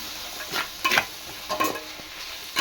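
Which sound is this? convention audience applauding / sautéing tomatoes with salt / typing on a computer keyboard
sautéing tomatoes with salt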